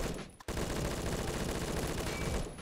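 An automatic rifle fires in the Phantom Forces video game: a brief burst, a short pause, then a long unbroken stream of rapid, loud shots.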